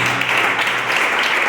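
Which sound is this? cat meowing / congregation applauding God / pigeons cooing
congregation applauding God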